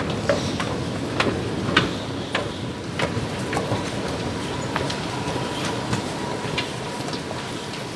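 Steady rumble of a moving train interior with a rhythmic clickety-clack of wheels over rail joints and occasional sharp ticks, no talking.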